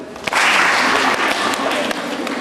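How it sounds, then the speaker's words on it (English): Schoolgirls in a classroom at St Martin's Girls High School clap together in a loud, dense burst that starts abruptly and holds steady, with a few sharper individual claps standing out. "Clap for them."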